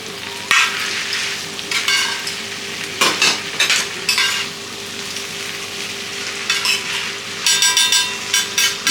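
Two people stir and toss chicken and egg hakka noodles in a hot frying pan, the steady sizzle broken by frequent quick scraping and clattering strokes of the spatula, busiest in short clusters toward the end.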